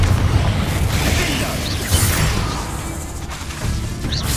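A Confringo blasting spell impact in Hogwarts Legacy lands as a dull booming burst with a rumbling low crash and whooshing debris, loud and close, blending into a continuous noisy battle bed.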